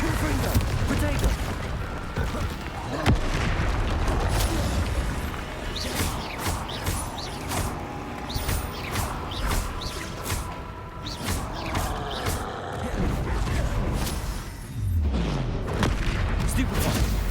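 Explosion spells Bombarda and Confringo blasting in the video game Hogwarts Legacy, dense continuous booms and crashes with whooshes amid busy combat noise, someone talking throughout.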